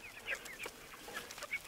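Chickens clucking softly in a backyard garden area, with a few short, bright calls scattered across a quiet moment. No one speaks.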